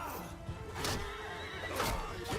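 Horses in a battle in the medieval game Bannerlord: a few quick whinnies rise and fall over a low background din, fairly faint, with no speech.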